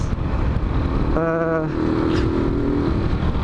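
A Benelli TNT 15 motorcycle engine hums steadily while riding, with a brief higher-pitched whine rising over the constant rumble, up close.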